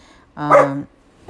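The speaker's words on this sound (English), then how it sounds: "I'm sorry, that's my dog." A single short dog bark, loud and close, rings out alone in a quiet room.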